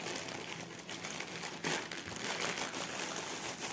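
Plastic packaging from a diamond painting kit crinkles and rustles continuously as the kit is unpacked, close and fairly soft, with one sharper crackle near the middle and no talking.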